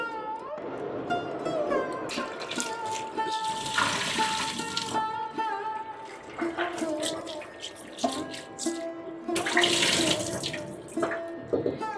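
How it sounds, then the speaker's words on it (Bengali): Hilsa fish are washed under a running tap, the water splashing and trickling steadily over them, with hands rubbing and handling in the stream throughout. "এই যে আমার মাছ ধোয়া শেষ"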